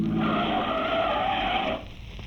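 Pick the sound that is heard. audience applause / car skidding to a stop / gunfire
car skidding to a stop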